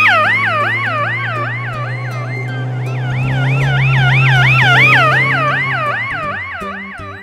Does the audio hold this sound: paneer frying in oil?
no